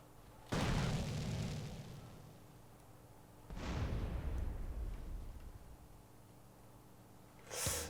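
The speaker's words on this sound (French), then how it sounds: "Ouais, belle explosion." Two big explosions in GTA San Andreas, each a loud sudden boom that rumbles and fades over a few seconds, the second about three seconds after the first, with a brief sharp burst at the end.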